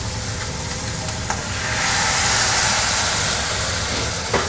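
White wine hitting a hot pot of mussels and onion sets off a steady broadband sizzle and hiss that swells louder midway, with faint stirring clinks, close up and without talk.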